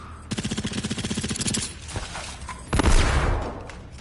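Rapid automatic 9x39 rifle fire in the video game Generation Zero, a fast burst of about twenty sharp evenly spaced shots, followed by a couple of single reports and a louder blast with rumbling tail.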